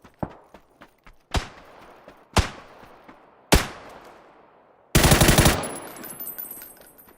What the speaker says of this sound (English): now we're getting shot at